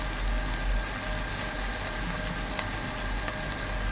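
Onions and green chillies fry in hot oil with cumin seeds, giving a continuous, dense crackling sizzle at close range that holds steady throughout without any talking.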